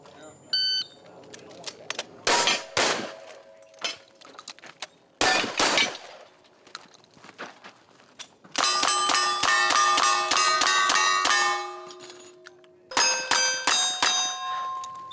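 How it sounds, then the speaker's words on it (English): Cowboy action shooting at a firing range with single-action guns, sharp gunshots ringing off steel targets in quick strings, plus a loud electronic timer beep and a long steady tone, with voices in between. "After a competitor is called for their turn to shoot, it's all over in a matter of seconds."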